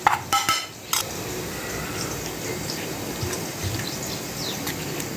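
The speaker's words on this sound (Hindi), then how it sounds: "थोड़ा सा पानी डाल के इसको हम मिक्स कर लेते हैं।" A spoon clinks sharply against a bowl a few times as ground spices are mixed with a little water for kadhi pakora, followed by a soft, steady stirring and swishing sound, close by and without talk.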